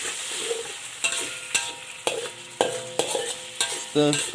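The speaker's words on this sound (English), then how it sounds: "Keep stirring until the tomato is cooked properly." Chopped canned tomato cooking in a pan for a red claw crayfish curry, stirred in a steady rhythm of about two scraping strokes per second over a constant sizzle, close and clear with no speech.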